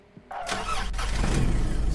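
A car engine in a mobile open-world car game cranks briefly and catches, then settles into a loud, steady idle rumble close up, with no talk over it.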